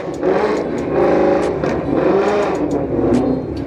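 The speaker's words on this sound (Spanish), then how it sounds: "Escucha bien poderoso ese pinche Mustang." Ford Mustang GT drag racing car at a drag strip event, its engine revving loudly and steadily with rising and falling surges, close by and alone.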